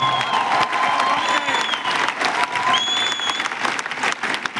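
An audience claps steadily through a speech event, continuous applause of many hands at a moderate distance, with a melodic tone sounding over the clapping.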